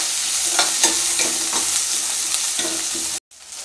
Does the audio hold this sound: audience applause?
no